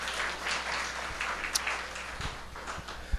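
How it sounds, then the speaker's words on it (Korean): A church gathering's audience breaks into applause, a dense, continuous patter of many hands clapping in a room, fairly loud and steady for a few seconds. "네, 박수로 한번."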